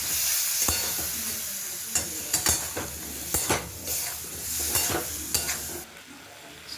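Water poured into spices, ginger, chilli powder and salt frying in a pan for an aloo potoler dum, giving a broad steady sizzle with repeated scraping stirs throughout, close and fairly loud, no voices.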